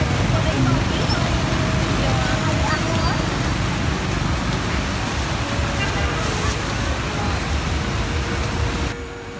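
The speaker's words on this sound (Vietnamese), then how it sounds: "Tụi mình đi chợ Sapa bị dầm mưa tầm tã luôn." Heavy rain pouring at Sapa market, a dense, loud, steady hiss that fills the whole stretch before dropping off abruptly at the very end.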